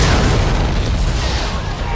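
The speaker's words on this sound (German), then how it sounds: "mehrere Explosionen" A loud, dense explosion from a film trailer about the Boston Marathon bombing rolls through as a sustained, booming roar that fills the whole moment.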